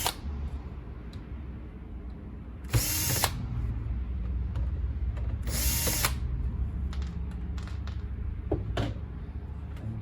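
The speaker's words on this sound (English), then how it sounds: "Maybe my drills much faster." Power drill driving out screws from the hinges of an HP 15 r017TU laptop, two short loud whirring bursts separated by ticking handling noises and low background rumble.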